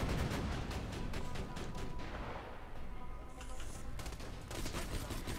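Rapid automatic sniper rifle fire in the video game Borderlands 2, a dense, continuous fusillade of loud cracking shots with booming impacts, sustained throughout with no pauses.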